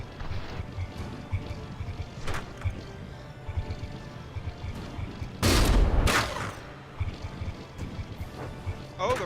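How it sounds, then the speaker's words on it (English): Naval guns firing in the From the Depths naval combat game, a frigate battle: a loud broadband blast near the middle stands out over a dense bed of game noise, with a few smaller bangs and rumbles around it. "Oh, the rear gun has been brought back online. It is firing again"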